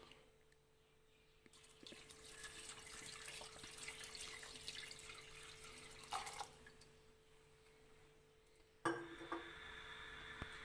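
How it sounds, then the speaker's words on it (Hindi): Water runs from a tap into a cooking pot holding washed meat for a cauliflower and meat curry, a faint steady trickle and splash that swells, eases, then resumes with a brighter gush. "अब इसके अंदर डालेंगे पानी।"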